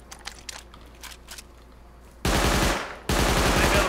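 Turret machine gun in a video game, preceded by a few scattered clicks and light impacts, then two loud sustained bursts of rapid automatic fire close up, with no talking.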